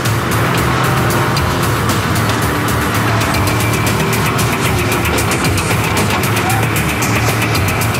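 Gumpert Apollo sports car racing a difficult 21-kilometre course at high speed, its engine giving a loud, steady roar throughout with dense vibration and no pauses.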